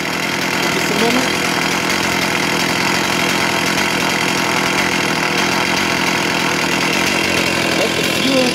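A chainsaw engine idles steadily, loud and near, with a constant rough buzzing drone, a voice briefly audible over it.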